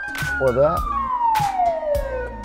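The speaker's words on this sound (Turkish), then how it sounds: "Şu horn sesini verecek, bu kısa siren çalacak." An ambulance siren gives a short burst, a loud tone sliding steadily downward through most of the clip, with a warbling yelp near the start and several sharp horn-like blasts on top, while someone talks briefly.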